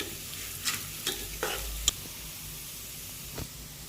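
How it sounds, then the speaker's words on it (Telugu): Toor dal fries in a pan for Andhra pappu pulusu, giving a faint, quiet sizzle with a few soft scrapes and clicks from stirring. "అది కొంచెం వేగిన తర్వాత కందిపప్పు కూడా అందులో వేసుకొని ఒక 2 మినిట్స్ వేపుకోవాలి"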